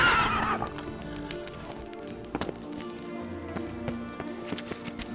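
Roach the horse in a video game: a bright neigh at the start, then galloping hoofbeats patter steadily underneath quieter game sounds.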